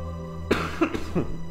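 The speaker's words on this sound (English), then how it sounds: "I apologize for this coughing" A few short, harsh coughs in quick succession from a sick person, close to the microphone, over a low steady hum.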